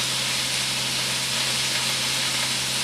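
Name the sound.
turkey browning in a hot pan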